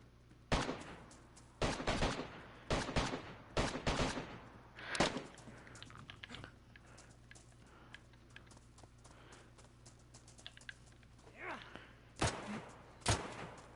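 Gunfire in the DayZ video game comes in loud, sharp bursts of several close shots, with quieter gaps and softer distant reports between the volleys.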